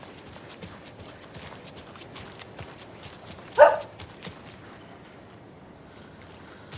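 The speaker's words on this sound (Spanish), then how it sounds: "Escucho un perro, pero no lo veo." A dog in Alan Wake II gives a single short bark partway through, faint and fairly distant against quiet, soft background ambience.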